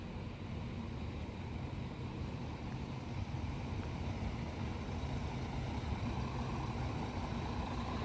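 Sinar Jaya suite class bus pulling into a parking spot beside a shelter at Arjosari bus terminal in Malang, its engine a steady low rumble close by, with terminal traffic noise behind it.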